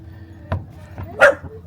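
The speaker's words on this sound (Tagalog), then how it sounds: "There's a dog." A dog on Siquijor Island gives a couple of short barks, the second louder and sharper, close by and otherwise quiet.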